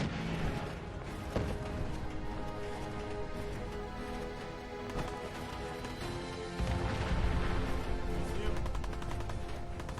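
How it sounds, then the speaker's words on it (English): Minigun fire in the video game Fallout 4, dense rapid bursts of loud gunfire rattling continuously, with sharp impacts and crashes mixed into the barrage. "But maybe now is a good time to try out that minigun"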